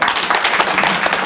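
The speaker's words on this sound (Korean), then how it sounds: "박수로 환영해 주시기" An audience at a civic debate forum applauds steadily, a dense wash of many hands clapping at once with no pauses, fairly loud and close.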